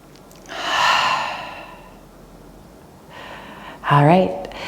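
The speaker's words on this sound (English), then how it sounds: "And breathe." Slow audible breaths during a yoga flow in tree pose, a long drawn exhale followed after a pause by another breath, then a brief voiced sound at the end.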